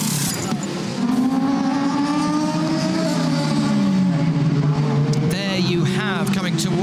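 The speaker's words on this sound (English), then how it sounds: "Coming towards us, the GTE Pro Aston Martin." Aston Martin GTE Pro race car approaching at the 6 Hours of Nurburgring, its high engine note rising and shifting through gears as it draws closer, loud under a commentator's voice.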